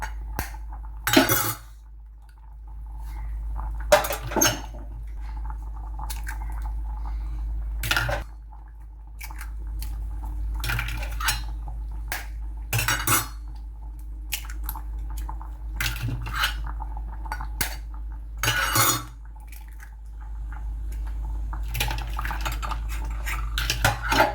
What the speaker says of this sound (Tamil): முட்டையை உடச்சி ஊற்றுவோம்.